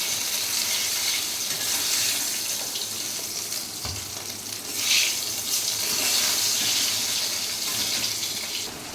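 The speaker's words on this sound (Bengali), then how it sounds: "এবার আমি জল দিয়ে দেবো" Water pours into a pot of fish curry with a continuous close rushing splash, swelling slightly partway through, with no voices.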